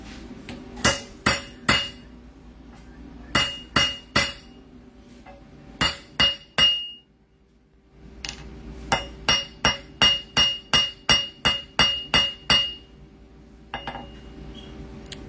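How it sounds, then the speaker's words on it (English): Metal is hammered by hand while making a die in a workshop: groups of sharp, ringing blows fall in quick bursts of three or four, then a longer run of about eight even strikes, close and loud against a quiet background. "back to hammering."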